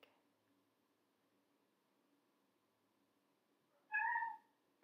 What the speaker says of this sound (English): And my cat's meowing, so I'm sorry.